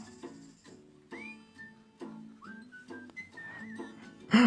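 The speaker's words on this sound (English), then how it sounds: "I like the whistling going on in the background" Melodic whistling in Easter background music, soft and somewhat distant, with short phrases and sliding notes over light instrumental accompaniment, ending in a brief louder burst.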